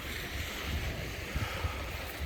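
Waves wash onto a shore during a paper boat race at the water's edge, heard as a steady close surf rumble with gusty wind buffeting the microphone, no talking.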